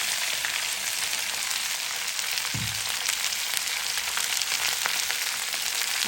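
Okra and onion frying in hot oil in a home kitchen pan, a steady close broadband sizzle that runs unbroken for several seconds with no talking.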